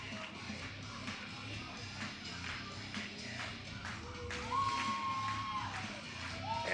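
Arena crowd at an independent wrestling show cheers for a returning high-flying wrestler, a steady roar of many voices with scattered shouts and a whistle rising near the end.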